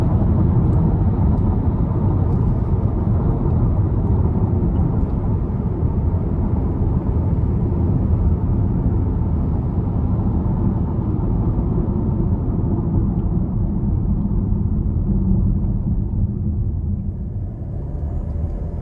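Road noise inside a 2026 Buick Envision ST AWD while driving: a steady, muffled low rumble of tires and wind that fills the cabin evenly and eases slightly at the end, with no talking.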